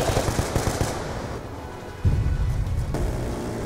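Call of Duty Black Ops 2 gunfire: dense, rattling automatic bursts packed with loud cracks, then a heavier, rumbling barrage takes over midway, all loud and close.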